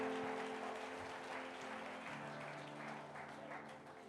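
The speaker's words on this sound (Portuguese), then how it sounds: "dê uma grande salva de palmas a Jesus" A church congregation applauding together during a Sunday celebration service, a dense broadband clatter of many hands that stays fairly steady and close, with faint voices and sustained organ-like tones underneath.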